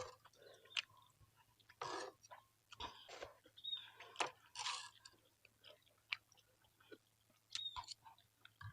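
Someone eating spicy Korean instant noodles, with close, quiet wet chewing and occasional crunchy bites in an irregular rhythm over a low steady hum.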